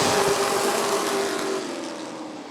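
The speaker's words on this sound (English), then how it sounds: "Chad Smith holding his line there in the 82 car in second." Sportsman race cars roaring past at Rockford Speedway, a loud, dense engine wash with a steady tone that fades slightly as they pull away, with no voices.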